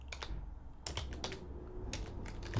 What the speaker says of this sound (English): Let's type that over.